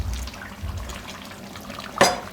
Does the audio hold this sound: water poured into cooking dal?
yes